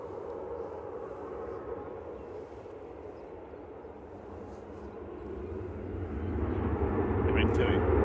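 An airliner departing Manchester Airport gives a low, continuous engine rumble that builds steadily louder over the last few seconds, with a faint voice and a brief high chirp near the end.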